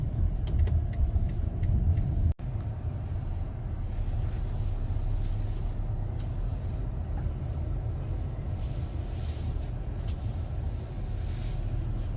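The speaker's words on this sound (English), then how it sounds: "our afternoon dusk car ride around the city" A car drives through the garden district of a city at dusk, its steady low engine and road rumble continuous and close throughout, with a brief dropout early on and no talking.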